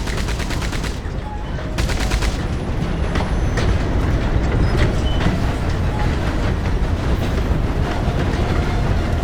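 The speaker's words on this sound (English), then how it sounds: "They drove the train straight into the enemy camp" A train in Red Dead Online rumbles loudly and steadily along the rails, mixed with bursts of rapid gunfire close by.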